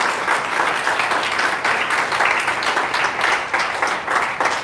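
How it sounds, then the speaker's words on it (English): An audience at an MLM training session claps steadily, a dense even patter of many hands that holds at the same loudness throughout with no talking over it. "Continue clapping."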